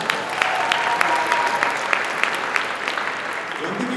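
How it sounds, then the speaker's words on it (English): Audience applause fills a gala hall for an honoree named Suraj at the South Asian Bar Association of Northern California's 29th annual gala, steady dense clapping with a few sharper claps standing out throughout. "One more round of applause for Suraj"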